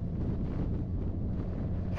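Wind buffets a microphone with a steady low rumble and roar throughout.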